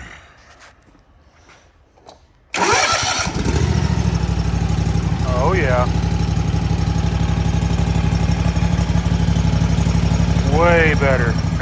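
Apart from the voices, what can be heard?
Toro TimeCutter Kawasaki FR691 mower engine starting and idling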